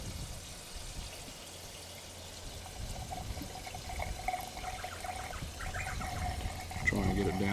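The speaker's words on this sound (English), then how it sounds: "I'll just put a bit of fuel in the top of the carby" Fuel is poured into the top of the carburettor on a vertical Austral Model K engine, making a soft continuous trickle and splash that grows fuller toward the end, with light sounds of handling close by.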